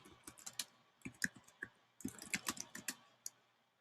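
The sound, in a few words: typing on a computer keyboard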